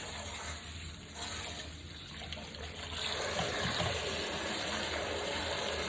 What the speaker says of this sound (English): got to add a little bit of cool water because I can't even touch this